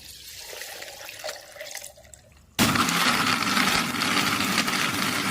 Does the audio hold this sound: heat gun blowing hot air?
no